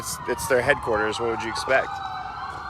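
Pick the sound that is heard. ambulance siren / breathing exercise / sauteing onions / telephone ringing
ambulance siren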